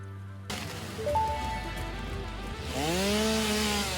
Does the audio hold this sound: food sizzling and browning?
no